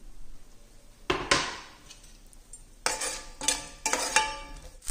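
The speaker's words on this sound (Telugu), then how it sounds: "ఇందులో మనం కట్ చేసిన ఉల్లిపాయ ముక్కలు, ఇవి లైట్గా వేగాలండి" Chopped onion pieces frying lightly in a pan for chilli paneer, with bursts of spatula scraping and stirring over a faint sizzle, louder clattering stirs coming in irregular clusters.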